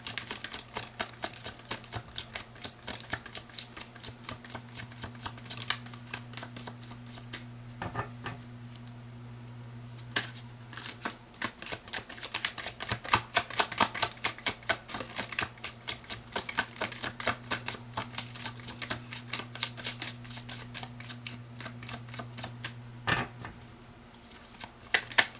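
Tarot cards being shuffled, a long run of quick crisp riffling flicks in steady bursts with brief pauses, close and fairly quiet over a low steady hum.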